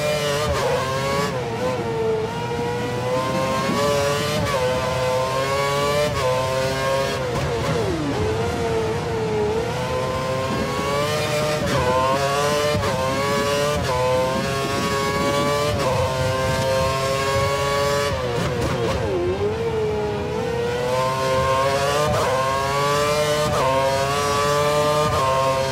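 Race cars in the F1 2013 video game drive the Brazil circuit, engines whining loudly and continuously, rising and falling in pitch through gear shifts and passes for the whole stretch, with no talking.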